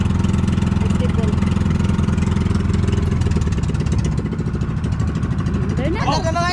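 A wooden outrigger boat's engine runs after repair, a loud, steady low mechanical drone with a throbbing pulse that holds throughout, with a brief voice rising over it near the end.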